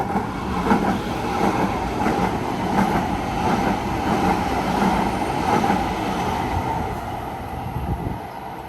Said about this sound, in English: we had the trains coming.